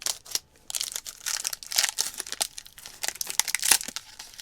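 Taped-over wrapper of a Kind bar from a U.S. Close Combat Assault Ration being torn open, close crinkling and tearing in irregular bursts with sharp crackles throughout.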